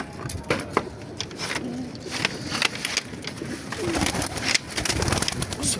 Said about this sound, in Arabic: بصوا الحمام بيخبط فينا.